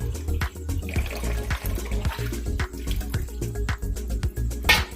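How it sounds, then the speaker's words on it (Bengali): Large pieces of chicken being washed in water, with splashing and sloshing, running-water gurgles and occasional sharp clatters and thuds in an uneven rhythm, close and fairly loud. "ভালো করে মাংসটাকে আগে ধুয়ে নেবেন"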